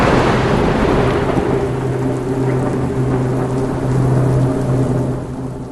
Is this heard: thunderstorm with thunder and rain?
yes